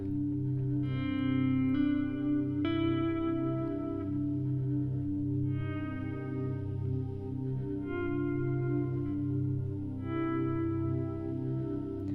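Heavily distorted touch guitar chords ring out over a drone, sustaining with a thick, buzzy, effect-laden tone and slight echo, changing every couple of seconds.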